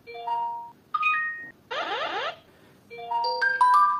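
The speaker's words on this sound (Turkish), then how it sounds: "Mesaj tonu." Short synthetic chime phrases and a buzzy warbling burst come from a DT8 Ultra smartwatch message notification tone, several quick electronic blips stepping up and down in pitch, close and clear without speech.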